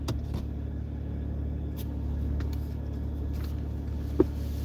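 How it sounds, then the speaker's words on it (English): A car engine idles steadily after the ignition is turned on, a low continuous rumble close by with one brief click near the end and no talk. "Now the key is in, the ignition has started."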